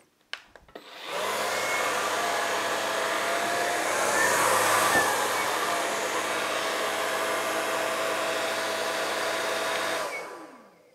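A Dreame Z30 cordless vacuum cleaner fitted with its mini brush starts up after a couple of clicks, runs with a steady loud whine and motor hum for about nine seconds, then winds down and stops.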